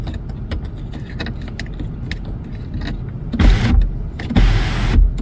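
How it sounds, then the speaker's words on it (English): Sunroof on a Hyundai Tucson motoring closed, a low electric whir rising near the end with a couple of mechanical thunks, heard close inside the cabin with no talking. "you need to make sure that that sunroof is closed all the way"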